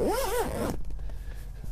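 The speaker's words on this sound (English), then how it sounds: "If I were to zipper this closed," Zipper drawn closed on the door of a Mofeez ground blind, one long close rasping pull followed by quieter fabric rustling and handling sounds.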